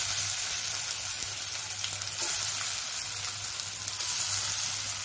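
Sprouted mixed-lentil dhokla batter sizzles in a hot spice tempering, a continuous close frying hiss with light stirring and no voices.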